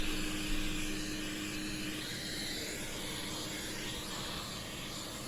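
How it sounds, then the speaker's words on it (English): A vacuum cleaner hums steadily at close range, sucking dust from a Sanyo MR-4010G cassette recorder, a constant airy whine with a faint tonal drone, no talking. "Just use my vacuum cleaner to get rid of most of the dust"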